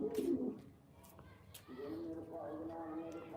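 Domestic pigeons kept by a pigeon fancier coo in soft, low rounded calls, with a human voice talking over part of it.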